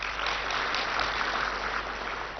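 Steady, dense applause from a large seated audience at an evening spiritual class in Pandav Bhawan, Madhuban, a continuous even wash of many hands clapping without pause.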